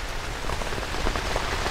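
Heavy rain pelts a camping tent in a windy storm, a dense and constant close patter of drops drumming on the fabric, loud and unbroken, with no voices.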